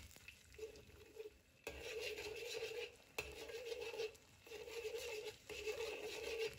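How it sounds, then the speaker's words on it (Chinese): Egg whites stir-fried in a hot wok with a little cooking oil, a spatula scraping and tossing in steady bursts over a continuous close sizzle, with short pauses between strokes. "等待蛋清定型，跟着用铲子炒碎。 这个时候呢，我们需要不停地翻炒"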